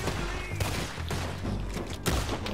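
Gunfire in Red Dead Redemption 2, several sharp shots cracking in quick succession over a steady rumbling game background, with a louder blast near the end and no talk.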